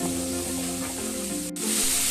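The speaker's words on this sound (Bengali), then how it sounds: "এবার মশলাটাকে আমি ভালো করে কিছুক্ষণ সময় ধরে কষাতে থাকবো।" Spice paste and tomato paste frying and being stirred in a pan for a Bengali chitol fish kalia, a steady close sizzle with faint scraping, briefly dipping then resuming.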